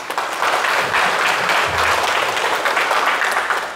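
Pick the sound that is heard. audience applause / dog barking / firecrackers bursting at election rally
audience applause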